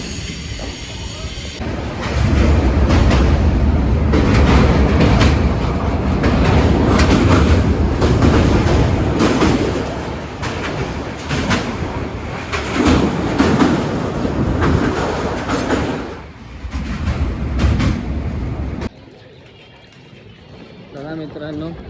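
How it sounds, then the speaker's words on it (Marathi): A passenger train bound for Puri runs on the rails, loud from close by with rhythmic clickety-clack and rumble, fading and dropping away near the end, with voices mixed in under the noise. "आपली ट्रेन मागे लागलेली आहे"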